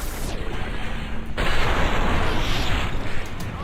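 A shotgun blast in Halo hits hard and is followed by a loud, dense burst of noise that lingers for a couple of seconds, close and dominant, with no talk over it.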